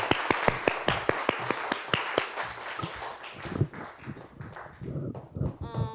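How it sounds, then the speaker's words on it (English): A round of applause for student Caden Cochrane at a Taconic Hills school event: a few hands clap sharply in a quick, even rhythm, then thin out into scattered claps and shuffling. "let's give a round of applause to Caden Cochrane"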